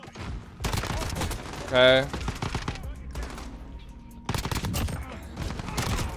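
Rapid single-shot rifle fire from an FAL in a modern first-person shooter, several crisp bursts of reports across the clip with a brief tonal game cue in the middle and a short spoken word.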